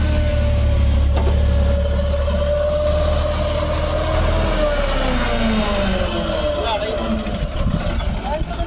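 An HMT 3522 tractor stuck in mud, with worn tyres, labours under load: a loud, steady low engine drone with a rising and falling whine, while a voice talks over it.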